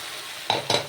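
Onion and dried Bombay duck (lote shutki) frying in a pan, heard as a faint steady sizzle with two brief louder bursts of stirring near the end.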